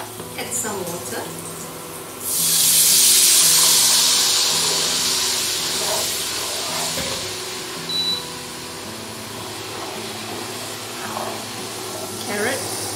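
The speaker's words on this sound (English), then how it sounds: "Add some water." Water poured into a hot pan of fried garlic sets off a loud burst of hissing steam that swells, then fades into quieter sizzling, with a voice speaking nearby.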